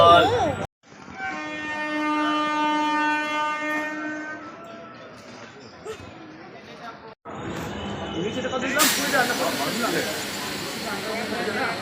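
A train sounds a long, steady horn, then rumbles and hisses along the tracks, with people talking nearby toward the end.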